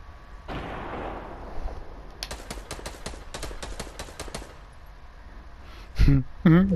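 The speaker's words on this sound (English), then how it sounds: "Gunshot." Gunfire in the Fortnite video game: a rapid burst of about a dozen sharp shots in quick succession, preceded by a rushing noise and followed by a loud impact near the end.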